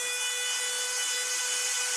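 Flywheel motor of an MP9 replica dart blaster spinning with a steady high-pitched whine and faint rubbing texture, close and fairly quiet with no voices.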